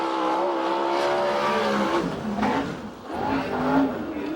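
A USAC/CRA sprint car on a qualifying lap at Perris roars loudly and steadily, the engine note shifting in pitch as it powers through the turns, close and continuous.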